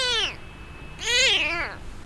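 A sick kitten with infected eyes, going blind, meows twice, each cry rising and falling in pitch, close and fairly clear against a quiet background.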